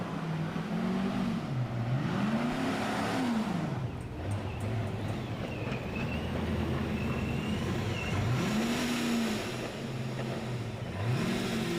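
A drift car at a championship start line on an F1 track, its engine revving up and down repeatedly in a wavering pattern, moderately distant under crowd and ambient noise, with occasional higher whines.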